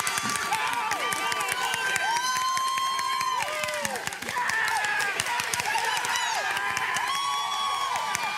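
A Little League World Series crowd cheers and shouts loudly and continuously, with children's voices, whoops and scattered clapping over a dense, sustained roar that swells near the end.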